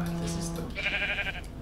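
A Minecraft cow lets out a short, loud, drawn-out lowing call, a tonal moo that rises in pitch partway through, lasting just over a second.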